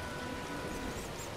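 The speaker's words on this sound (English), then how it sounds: "Rain's pretty strong right now." Heavy rain falls in The Witcher Enhanced Edition, an even, dense hiss of downpour that fills the moment without a break and with no voices over it.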